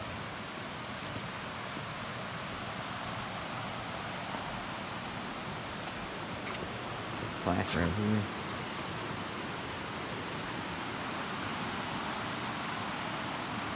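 Steady broadband rush of the waterfall at Evan's Mill Pond Dam at Raven Run, a continuous wash of falling water that fills the whole stretch, with a brief voice speaking partway through.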